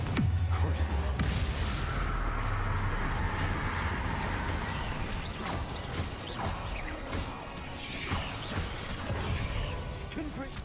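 Rumbling crashes and booms from the Confringo explosive spell in Hogwarts Legacy, several heavy blasts and crackling debris bursts rolling through the clip at moderate loudness with sharp transients scattered across it.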